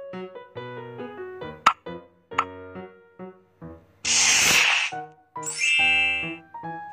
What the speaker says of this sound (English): Put some soda in the empty glass.